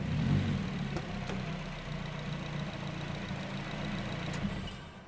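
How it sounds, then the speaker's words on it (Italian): A Nissan Silvia engine idles steadily with a low, rough rumble and faint knocking, close by, with no voices, before being switched off. "spegnere il motore"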